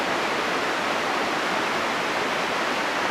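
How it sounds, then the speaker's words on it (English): A turbulent creek rushes through the narrow Raggerschlucht rock gorge in Austria, a loud unbroken roar of whitewater with no voices. "This narrow gorge was carved into the rock by a turbulent creek."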